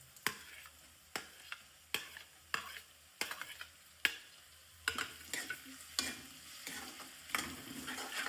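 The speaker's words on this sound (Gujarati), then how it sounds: "સારી રીતે મિક્સ કરી દઈશું." A spatula stirs chopped tomatoes into a garlic curry in a pan, scraping in a steady series of sharp strokes over a low sizzle of frying, close and fairly quiet with no talk.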